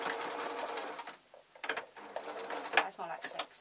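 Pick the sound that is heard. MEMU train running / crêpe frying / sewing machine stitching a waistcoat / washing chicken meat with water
sewing machine stitching a waistcoat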